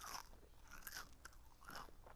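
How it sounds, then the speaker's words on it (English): Crisp crunching bites into air-fried Parmesan squash held close to a microphone, three or four distinct crunchy bursts with chewing between them, no talking. "Can you hear the crunch?"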